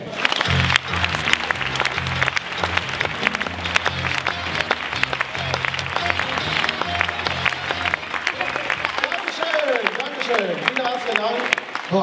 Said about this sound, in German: Begrüßt mit einem tosenden Applaus den Joel von Mutzenbecher